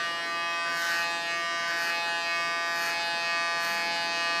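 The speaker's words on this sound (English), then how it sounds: "With my clipper and a comb, I start my haircut." An electric hair clipper buzzes steadily and loudly at close range while cutting hair during a haircut makeover, its drone swelling in rhythmic passes about once a second.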